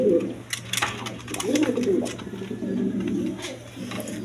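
Large red pigeons coo repeatedly up close in a loft, soft rolling calls in a steady rhythm over a constant low hum, with a few sharp clicks and faint background sounds.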